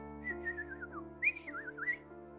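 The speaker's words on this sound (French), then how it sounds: "vous faites le petit sifflement, toujours le même" Soft, melodic whistling by a person calling an animal, a few wavering rising and falling phrases close by with short pauses between them, no talking.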